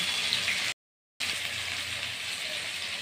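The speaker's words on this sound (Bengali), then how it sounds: "এটাকে আমি আরেক পিঠ ভালো করে ভেজে তো উঠিয়ে দিচ্ছি।" A flat bean fritter stuffed with filling and coated in rice flour fries in a pan, giving a steady close hiss of sizzling oil that cuts out briefly, then resumes alone without talk.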